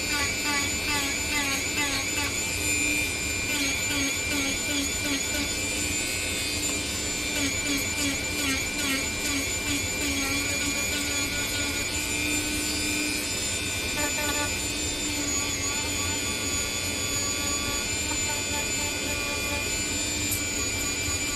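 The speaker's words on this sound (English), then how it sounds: "We're gonna clean that up with the Dremel first and then on the wheel." Dremel rotary tool and then a grinding wheel smoothing the edges of a shoe in a cobbler's workshop, a loud, steady high-pitched whine and grind that runs continuously with slight fluctuations in pitch.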